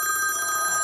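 An indoor telephone rings in a continuous, steady, bright ringing tone that fills the brief moment, with no speech over it.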